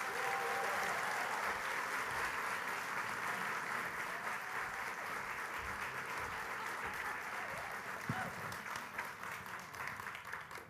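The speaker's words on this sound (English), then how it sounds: "give a super rock star round of applause for Susan and Ivy." Steady, sustained applause from a large audience at a talk fills the whole stretch, a dense wash of clapping that fades slightly toward the end.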